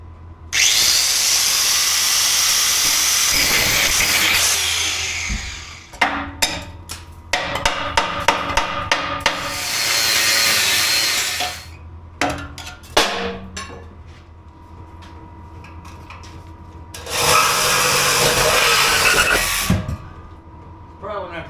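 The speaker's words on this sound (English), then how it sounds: "So I'm thinking I'm gonna take a grinder to this first." An angle grinder cuts through a muffler hanger on a 2004-2008 Ford F150 exhaust, loud in several long whining bursts separated by pauses with clanking metal and some talking.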